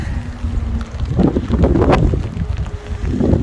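Strong wind gusts roaring and howling around the microphone, rising and falling in waves with a low rumble underneath.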